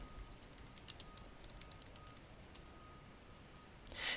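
Quick bursts of clicky keystrokes on a computer keyboard as a folder name is typed, faint and close, in uneven clusters followed by a brief pause and a final louder click.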